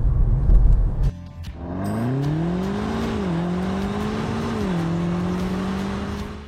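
A BMW M8 Competition, set to Sport Plus engine mode, accelerates at full throttle after a loud burst of noise. The engine note climbs steadily and drops briefly at two upshifts, loud and close, with no talk.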